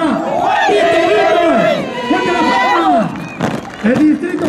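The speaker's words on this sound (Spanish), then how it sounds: "Yo pido al público el aplauso fuerte para Tito" A crowd at a community event in Antabamba, Apurímac, cheers and shouts loudly together in a dense continuous roar, with voices rising and falling throughout.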